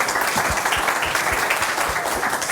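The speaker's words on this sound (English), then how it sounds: "Round of applause for Ashley, please." Dense, steady applause from a conference auditorium audience for a cloud native security speaker, a continuous wash of many hands clapping up close with no voices over it.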